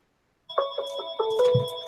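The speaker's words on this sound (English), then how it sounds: "There's my phone ringing." A phone rings with a clear electronic ringtone: a few repeated melodic bursts starting after a brief silence, close and moderately loud, with no talking over it.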